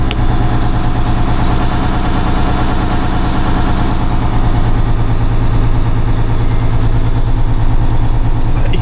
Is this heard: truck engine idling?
yes